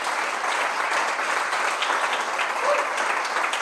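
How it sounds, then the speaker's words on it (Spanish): Steady, dense applause from a church congregation, with continuous clapping filling the whole stretch at an even loudness and a faint murmur of voices underneath. "¿Le podemos dar un fuerte aplauso?"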